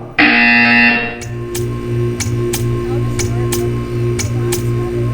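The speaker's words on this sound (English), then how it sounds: "You will hear a buzzer. When you hear the buzzer, stare at the art." A loud electronic buzzer blares for about a second in the video game Portal 2, followed by a steady hum with faint regular ticks.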